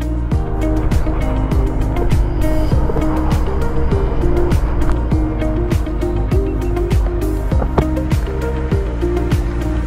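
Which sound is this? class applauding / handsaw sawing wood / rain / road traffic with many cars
road traffic with many cars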